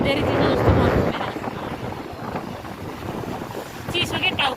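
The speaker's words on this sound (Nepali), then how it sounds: "कस्तो कानमा हावा लाग्यो जानु" Wind buffets the microphone while riding outdoors in cold air, a loud rough rumble strongest at the start and then easing into steady gusty noise, with a voice speaking over it.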